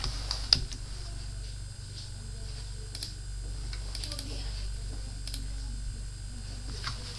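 Typing on a computer keyboard to enter a file name in a Windows save dialog, a handful of soft scattered key clicks and a mouse click over faint background hum.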